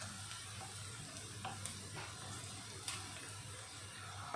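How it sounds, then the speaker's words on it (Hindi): Onions sizzle steadily in hot ghee for a dal tadka, a soft continuous crackle with faint scattered pops and a low hum underneath, no talking. "ये ट्रांसलूसेंट हो जाए तब तक के इसको इसी ऑयल में फ्राई होने देना है"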